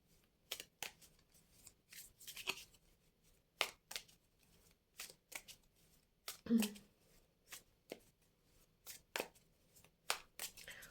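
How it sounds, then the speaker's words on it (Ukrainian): Tarot cards being handled and laid down: a series of crisp, separate slaps and flicks at irregular intervals, close and quiet. "Поки я буду розкладати карти"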